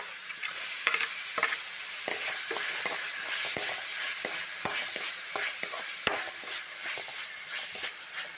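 Tomatoes fry in a pan for mutton curry, a constant close sizzle punctuated by frequent spatula scrapes and taps as they are stirred, with no voices.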